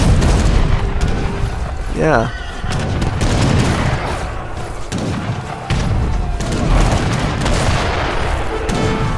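Cannon and artillery fire thunders through a large Age of Empires 3 battle, with dense, overlapping booms and thuds over a constant clatter of combat. Excited commentary runs underneath the whole time.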